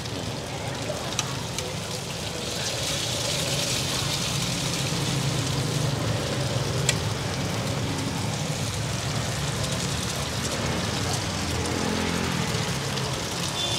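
Crispy taro flour cake frying at a Binh Duong street food cart, a steady loud sizzling hiss of hot oil that runs unbroken throughout, with occasional clinks and voices talking faintly in the background.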